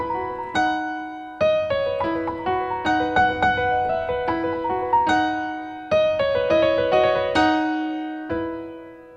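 A solo piano intro with bright, rhythmic repeated arpeggiated figures over sustained bass notes, clear and close, ending on a held chord.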